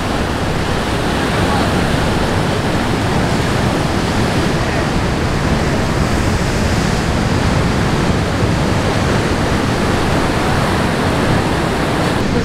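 Sea water washing in at a beach in the United States, a dense continuous roar of surf and rushing water with wind buffeting the microphone, loud and unbroken throughout.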